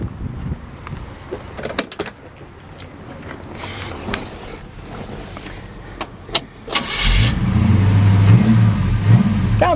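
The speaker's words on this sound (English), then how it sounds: "Go ahead and fire it up for you." A 1968 Chevrolet El Camino is heard first with soft mechanical clicks and shuffling. The engine then cranks and fires up loudly near the end, settling into a deep, rumbling idle with a few revs.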